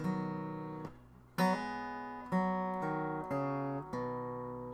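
A few guitar notes and chord strikes from a song ring out alone, each plucked attack followed by a sustained, decaying tone, with a short fretted hammer-on phrase between strums.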